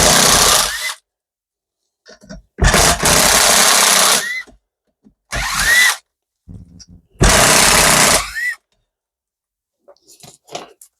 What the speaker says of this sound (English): I'm just going to use a drill to take all these bolts out.